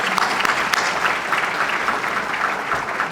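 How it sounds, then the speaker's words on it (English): A crowd at a city State of the City event applauds the sponsors, with dense, continuous clapping at close range and a few sharper individual claps standing out. "Let's give all of our sponsors a round of applause"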